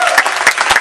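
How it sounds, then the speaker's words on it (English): Audience applause at a gathering of rail enthusiasts, a short burst of steady clapping that stays fairly loud and even for under a second. "Give those two gentlemen a round of applause."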